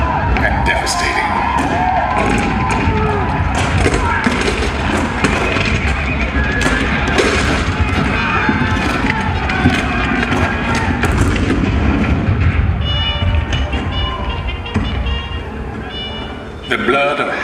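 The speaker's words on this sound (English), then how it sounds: "The cannon spoke for war, bitter, violent, and devastating." Booming cannon fire effects in the Hall of Presidents show at Magic Kingdom, Disney World, loud repeated blasts and rumbles under dramatic narration and music filling the hall.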